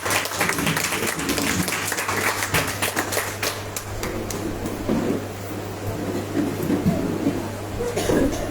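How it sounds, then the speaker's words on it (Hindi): Applause from a church congregation welcoming the pastor at a Hindi deliverance prayer service, a steady broad wash of clapping through the whole stretch with faint talk and room noise beneath. "हमारे बीच में पास्टर जी आ रहे हैं, तालियों का स्वागत करेंगे।"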